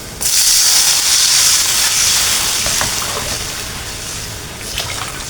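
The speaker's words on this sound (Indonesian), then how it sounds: "kita siap tuang 2 gelas air." Water, two glasses' worth, pours into a cooking pot in a steady rushing hiss, starting abruptly and continuing throughout, with a few faint clinks near the end.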